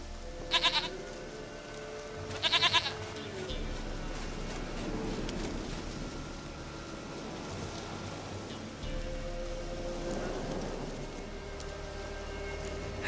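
A goat bleats in The Witcher 3: Wild Hunt, two quick quavering calls near the start, set against a steady game ambience with a rain-like wash and low drone, and no talking.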